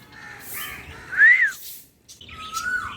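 A koel calls with a few whistled, gliding notes that rise and bend, fairly close, with brief gaps between phrases and light background hiss.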